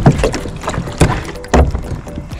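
A person climbs back onto a kayak in cold open water, making close, loud splashes, hull thumps and sloshing at irregular intervals, with wind noise on the microphone and no speech.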